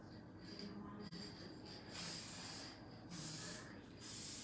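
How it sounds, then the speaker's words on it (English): Three bursts of aerosol spray sealant hiss close up over a glittered fabric wreath, each lasting about a second, with a brief click before the first. "Just gonna spray it directly on top."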